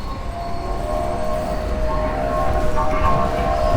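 Recorded train sound plays at a sanitary railway carriage exhibit in an open-air museum in Moscow: a steady, loud rolling rumble with a whistle-like tone above it, growing slightly stronger toward the end.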